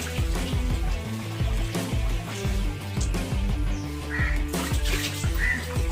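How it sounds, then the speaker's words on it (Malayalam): Water is poured into a bottle holding drain cleaner and aluminium foil, a gurgling, bubbling flow with uneven glugs and splashes, fairly close and continuous with no one speaking. "നമുക്ക് ഇതിലോട്ട് വെള്ളം നിറച്ചു കൊടുക്കാം."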